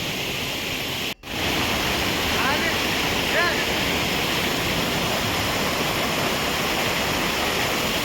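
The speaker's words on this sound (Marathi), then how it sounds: "पुढे जाताना पाण्याचा जोरदार प्रवाह वाढत होता" A strong rush of water at a Sahyadri waterfall in the Maval area, a loud continuous roaring wash broken by a brief dropout near the start, with faint voices barely audible beneath.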